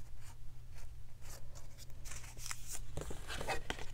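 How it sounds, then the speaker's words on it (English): Paper for a Halloween trick-or-treat gift bag is creased with a bone folder, giving soft, faint scraping strokes close by in a quiet room. "Bone folder."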